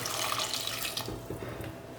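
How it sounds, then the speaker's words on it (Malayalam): A cup of water is poured into a pot of mango pulissery, a Kerala mango curry, making a steady, close splashing gush that runs for about two seconds with no talking. "ഇതിലോട്ട് നമുക്ക് 1 കപ്പ് വെള്ളം ഒഴിക്കാം"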